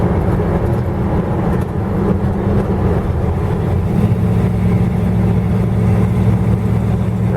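A 1962 Salt Flat Rat car's engine runs steadily while driving at around 40 miles an hour, a continuous low drone with a constant hum and road rumble, no voices heard.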